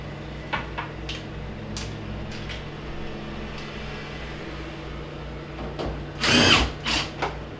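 A power drill drives two screws into a GE refrigerator panel during a main control board repair, heard as short whirring bursts with a louder burst near the end over a steady background hum.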